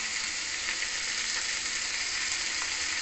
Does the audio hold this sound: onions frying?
yes